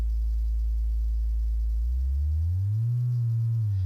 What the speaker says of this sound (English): I'm gonna start with the sine wave, just to hear.